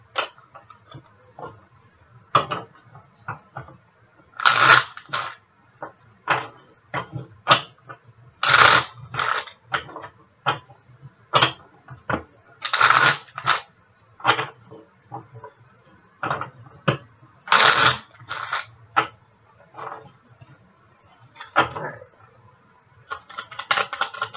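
A deck of tarot cards shuffled by hand at close range in repeated crisp riffling bursts and soft slaps, uneven in rhythm with short pauses between, no talking.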